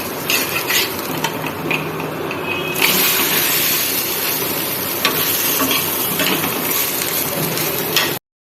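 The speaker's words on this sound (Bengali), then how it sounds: "পরপর ভেজে নিচ্ছি পুরো লাল লাল করে ভেজে নিচ্ছি" Batter frying in hot oil for breakfast, a loud dense sizzle close by with the scrape and clink of a utensil stirring, growing fuller midway before stopping abruptly.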